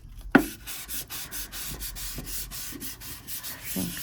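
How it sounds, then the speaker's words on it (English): A squeegee smooths a resin coating in a tray mould, making a steady series of soft rubbing strokes, close and fairly quiet, after one sharp knock at the start. "I might use a squeegee just to smooth that down"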